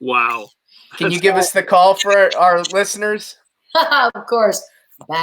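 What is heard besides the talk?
No distinct noise like a dog, phone or traffic.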